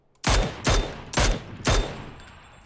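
Four loud, evenly spaced gunshots in PUBG on the Miramar desert map, each a hard crack with a short decaying tail, close and alone.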